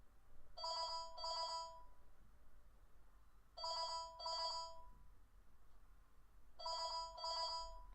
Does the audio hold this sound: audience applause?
no